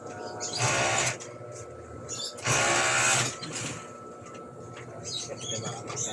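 Sewing machine stitching indoors at a church, two loud bursts of steady whirring motor and needle rattle separated by quieter pauses with faint background chirps and shuffling.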